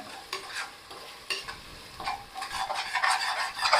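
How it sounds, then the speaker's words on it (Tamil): Garlic paste and spices for Dindigul-style seeraga samba chicken biryani are stirred in a hot pan, with a bright sizzle and a run of quick scraping and clinking strokes that grow busier toward the end, no voices. "நல்லா கலந்து விட்டுக்கோங்க"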